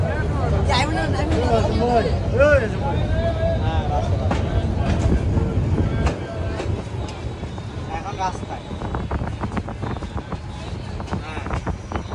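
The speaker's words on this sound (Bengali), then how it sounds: "এই মুহূর্তে আমাদের ট্রেন ছেড়ে যাচ্ছে মহিষাদী স্টেশন থেকে" Sagorika Express passenger train pulling out of Mohishadi station, a steady loud rumble of wheels and carriages with wind buffeting, a voice talking over it throughout and a slight drop in level midway.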